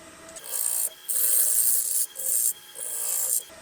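A lathe tool cuts a spinning wooden yarn bowl with downhill cuts, producing loud, close bursts of harsh, hissing shaving. Four sustained passes are separated by brief pauses.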